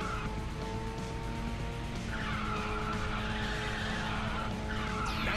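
A car drifts with nitrous boost in Ridge Racer 6, its tires squealing in a long, sustained skid over a steady, roaring engine, loud and close throughout.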